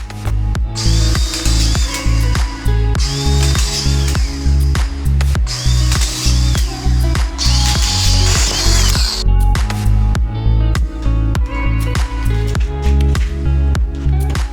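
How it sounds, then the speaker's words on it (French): A collated autofeed screw gun drives drywall screws from a plastic strip into plasterboard, giving loud, close, rapid repeated whirring and ratcheting bursts in a steady rhythm throughout. "Pour visser les plaques de placo, j'utilise la visseuse mitraillette qui sont mises sur des bandelettes en plastique"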